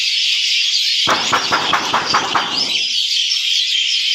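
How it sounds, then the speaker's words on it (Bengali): Many birds call at a bird habitat, a dense, loud, constant chorus of high squeals and chirps. A burst of rapid clicking, flapping-like sounds joins the chorus partway through. "প্রচুর পরিমাণে পাখি এখানে।"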